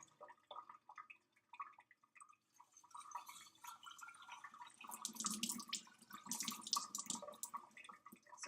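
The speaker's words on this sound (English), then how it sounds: "I like to rinse it a little bit just to get all the dirt out and make sure it's clean." Tap water runs and drips while organic beans are rinsed in a sink, splashing unevenly and growing louder and busier toward the end, close and alone.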